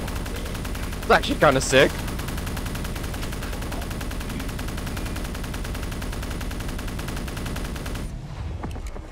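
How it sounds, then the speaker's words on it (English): In Call of Duty Black Ops 3 Zombies, the Death Machine gun fires explosive rounds as a steady, dense rattle of rapid gunfire with a few louder bursts early on, while a person talks over it before it cuts off. "That's the death machine. It's like shooting, like, explosive rounds."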